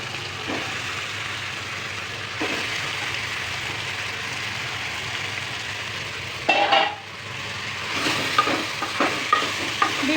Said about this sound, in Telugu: ఇప్పుడు చికెన్ వేస్తున్నాను